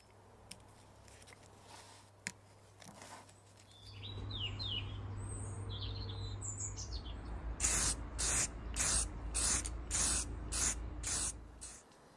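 Primer hisses from an aerosol can in a series of short, rhythmic bursts near the end, after a quieter stretch of steady spraying, with birds chirping faintly in the background.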